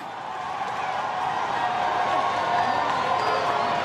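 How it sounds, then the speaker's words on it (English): Football crowd at a women's COSAFA club match between Gaborone United Ladies and the University of the Western Cape, a broad, steady roar of cheering and scattered clapping that swells slightly and holds for the whole stretch, with no clear voices on top. "The crowd is loving it."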